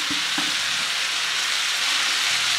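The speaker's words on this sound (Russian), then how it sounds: "Теперь перемешаем еще раз наш овощной жульен" A vegetable julienne with leek and parsley sizzles in a hot frying pan, a steady close hiss of frying broken by a couple of soft scraping stirs near the start.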